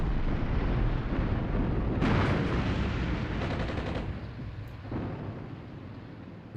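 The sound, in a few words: artillery fire and explosions in video game Armored Brigade 2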